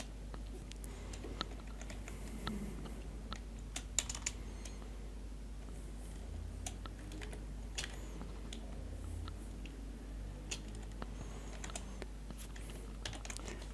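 Computer keyboard typing while entering data in Microsoft Access, a scattered run of crisp, close key clicks with irregular pauses, individual sharp taps standing out over a steady low electrical hum.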